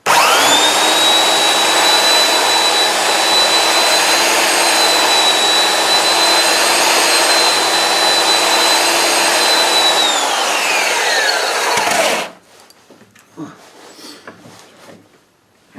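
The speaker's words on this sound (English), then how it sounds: "make sure that it's firmly on there and then start sanding" A loud, steady whine of a power sander running against wood for several seconds, then it cuts off abruptly, leaving quiet room sounds.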